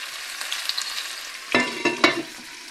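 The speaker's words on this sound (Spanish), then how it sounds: "En lo que se va pochando el pimiento y la cebolla" Peppers and onion softening in a frying pan give a steady close sizzle, with a few louder stirring bursts near the end.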